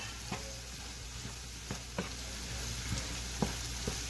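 Bell peppers frying in a pan for fried rice give a quiet, steady sizzle, with a few soft clicks and taps as they are stirred.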